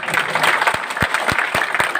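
A crowd of traders gathered at Nandlal Chowk claps, a brief burst of dense applause with a few sharper individual claps standing out.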